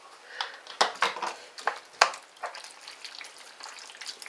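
Tomato paste stirred into lasagna sauce in a pan: a string of soft scraping and sloshing strokes with a few sharper utensil clinks against the pan, close and alone.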